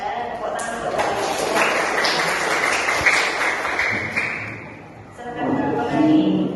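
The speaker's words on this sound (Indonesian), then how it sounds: "Tepuk tangan untuk kalian." A classroom of students in an Islamic religious-education lesson bursts into several seconds of dense, steady applause, fading briefly before a second swell, with voices mixed in.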